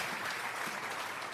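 A church congregation gives a steady wash of applause as an offering of praise, a dense, even clapping that stays level and moderately distant for the whole short stretch with no voices over it.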